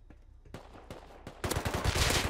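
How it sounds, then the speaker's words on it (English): Gunfire in an online shooter game, starting as scattered single shots and building into loud, rapid bursts of automatic fire up close. "I shot one."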